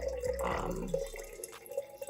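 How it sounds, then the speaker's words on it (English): Water pours from a kettle into a jar while lasagna is being prepared, a close splashing, gurgling stream that fades out after about a second, with faint drips afterward and no talk. "I'm just gonna go ahead and take my kettle and just pour some water into the jar."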